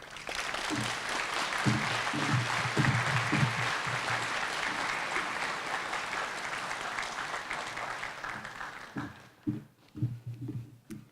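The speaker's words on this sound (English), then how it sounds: "give yourself a big round of applause" Graduates and guests at a high school equivalency graduation give a sustained round of applause that fills the room for several seconds, then thins out into scattered claps and a few voices near the end.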